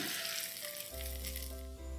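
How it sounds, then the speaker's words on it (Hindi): Hot tadka tempering is poured onto cooked chana dal in an achari dal dish, setting off a steady close sizzle and crackle with no talking. "और इसको उतार लेंगे और ये तड़का लगा देंगे।"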